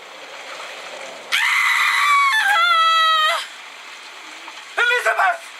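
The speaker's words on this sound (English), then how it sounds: "a scream!" A woman's high, drawn-out scream bursts in loudly and holds for about two seconds, then a shorter, quieter wavering cry follows after a pause, over a low dark background hum.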